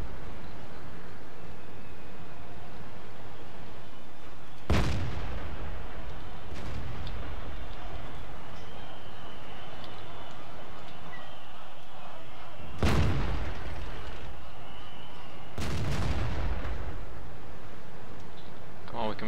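Tank cannons fire in a World of Tanks battle, three heavy booming blasts spaced several seconds apart over constant rumbling engine and battlefield noise, with someone talking throughout.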